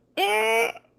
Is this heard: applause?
no